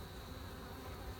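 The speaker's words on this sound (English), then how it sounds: "There's a huge population of very healthy and strong bees here." Honey bees buzz in a dense, steady drone around a strong, crowded winter hive with bees bearding at the entrance, a faint continuous hum with no voices.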